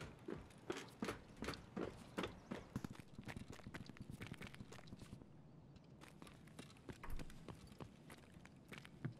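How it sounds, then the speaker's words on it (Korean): Footsteps in the shooter game Escape from Tarkov: a run of sharp, regular steps on a hard surface, fairly close, with a brief lull and a heavier thump near the end. "발소리 들었는데?"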